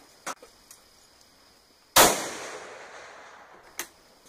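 A single sharp rifle shot from a Polish Mauser firing cast lead bullet loads at a 50-yard range, with a long fading echo tail and a few faint metallic clicks before and after.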